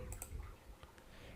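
A few crisp computer mouse clicks, sharp and close, against a faint steady room hum.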